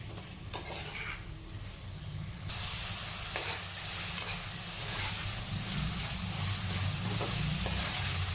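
Tomatoes sautéing for paneer biryani, a constant hissing sizzle that grows louder partway through, with a couple of soft stirring clinks, close by and without talk.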